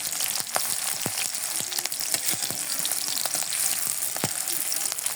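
Chopped onion and green chillies frying in oil in a pan, a dense close sizzle with scattered crisp pops and crackles running steadily throughout, no voices over it.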